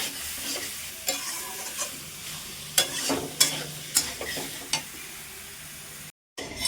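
Potatoes and soybean chunks frying in oil in a kadai, a steady sizzle broken by repeated scraping and stirring strokes of a spatula, close up, with a brief dropout near the end.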